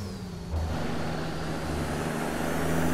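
In American Truck Simulator, a truck fitted with the Kriechbaum sound pack is heard from outside while it makes a left turn, giving a continuous deep engine rumble that swells louder partway through and holds steady.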